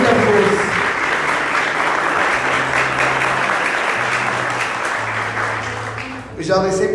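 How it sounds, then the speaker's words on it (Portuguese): A church congregation at an evening sermon applauds in a sustained, loud burst of clapping, with low musical tones underneath and voices near the end. "Vamos aplaudir a palavra de Deus com muita força."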